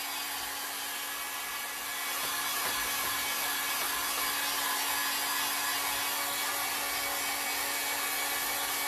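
A heat gun blows a steady, loud roar of hot air while drying ink on a pillow, a continuous whooshing hiss that swells slightly after the start and holds without a break.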